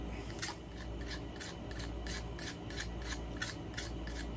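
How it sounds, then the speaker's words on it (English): Fine sandpaper rubbing a carbon arrow shaft, a soft, steady rasping in short repeated strokes, fairly faint and close, with no speech. "if you sand this carbon right here"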